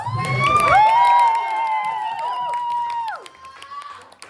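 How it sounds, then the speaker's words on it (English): A crowd cheers and applauds at an album release event in London as a performer is welcomed. Loud, sustained whoops and shouts ring out, then fade after about three seconds. "Big round of applause."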